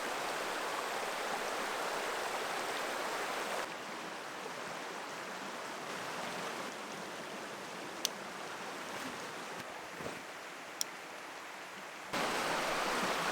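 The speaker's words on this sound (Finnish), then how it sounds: "Olipa nätti puro heti tässä alussa." A small, pretty brook at the start of a hiking trail in the Paistunturi wilderness of Finland flows as a steady broadband rush. The noise dips quieter through the middle with a few faint clicks, then swells again near the end.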